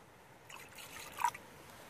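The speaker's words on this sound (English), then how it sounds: "I'm just going to pour a little bit of water in" Faint water trickles and drips briefly into a neat vodka drink with a hint of peach and orange at a solo wild camp, coming close and soft in two short bursts.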